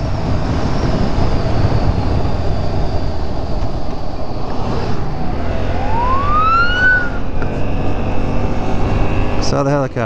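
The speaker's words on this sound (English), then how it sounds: "Uh-oh, ambulance." An ambulance siren wails past, rising in pitch, over loud road and engine rumble heard while riding a 2015 Yamaha FZ-07 motorcycle.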